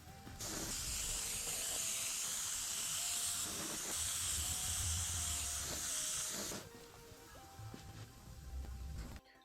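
An airbrush sprays clear base coat in a long steady hiss for several seconds, briefly pausing, then tapering into softer intermittent bursts, close and fairly quiet with no talk.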